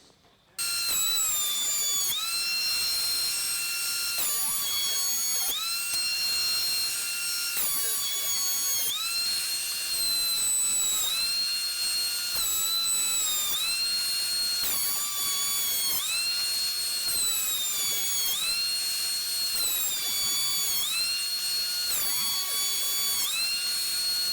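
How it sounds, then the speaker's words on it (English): Wood boards run through a thicknesser planer in a workshop: a loud, continuous high motor whine that dips and recovers in pitch every few seconds as each board is fed and cut. "let's go over to the thicknesser and put this through now"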